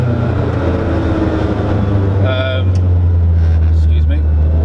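A Toyota MR2 fitted with a K20 engine cruising gently on roads near the Nürburgring, its engine a steady, even in-cabin drone with no sharp revs.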